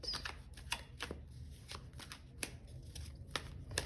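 A deck of tarot cards shuffled close up, a rhythmic series of soft riffling slaps and brushes repeating for several seconds, quiet and with no voices.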